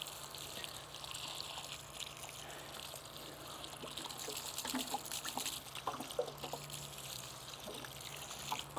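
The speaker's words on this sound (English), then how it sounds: "Okay, watering will do." Water trickles and splashes steadily over soil around a newly planted Olivia Austin rose bush, a soft, continuous pour at moderate level with no talking.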